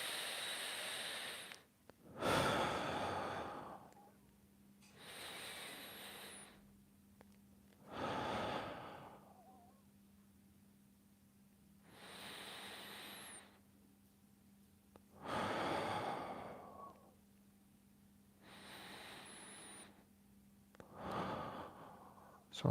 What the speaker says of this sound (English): I'm going to do some breathing. I'm going to breathe in.